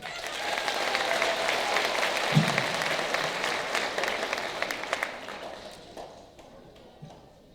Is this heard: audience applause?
yes